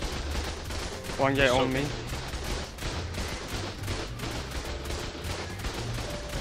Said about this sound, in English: They have turrets.